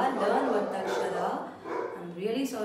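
A dog barks repeatedly in the background of a room, mid-level and somewhat muffled, underneath a person speaking steadily close by.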